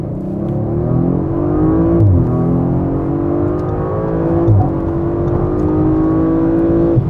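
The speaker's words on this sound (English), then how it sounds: "That went quick, and due to the all-wheel drive, also a nice distribution, so a very smooth acceleration." An Audi RS5 Coupé with all-wheel drive accelerates hard from 40 km/h on a wet Autobahn, its engine note rising steadily through two gear changes, loud, close and continuous with no talk.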